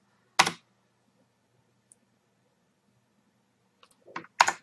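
Sparse keystrokes on a computer keyboard: one sharp click, a long quiet pause with a faint tap, then a short quick cluster of clicks ending in a firm final press, close by with no talking.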